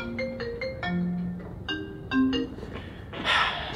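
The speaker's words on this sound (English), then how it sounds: "My phone's ringing right now." A mobile phone ringtone plays a sequence of short melodic tones at moderate level in a quiet room during a chiropractor visit, followed by a brief burst of rustling noise.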